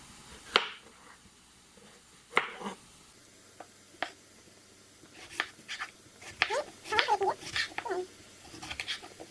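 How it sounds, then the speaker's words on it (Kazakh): Eggplant and sweet pepper are cut on a board, with sharp isolated knife knocks at first, then a busier run of quick, close chopping taps toward the end over a quiet background. "Сәбізіміз қуырылғанша біз баклажан, тәтті бұрышымызды тураймыз."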